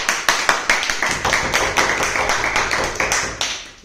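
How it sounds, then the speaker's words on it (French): Audience at a yeshiva lecture in Israel claps together in a quick, steady, fairly loud run of sharp claps lasting a few seconds. "On fait un applaudit."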